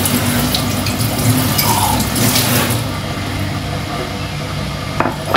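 Water runs steadily from a kitchen tap as it fills a container to be heated for a warm drink, a continuous close splashing flow that softens and thins after the first few seconds.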